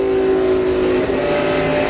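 NASCAR stock cars racing at the 1999 TranSouth Financial 400, a loud continuous engine roar with a steady high whine, sustained and close throughout.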